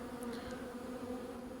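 Honey bees swarm out of the hive on cleansing flights, a steady close buzzing hum that fills the moment without any voices.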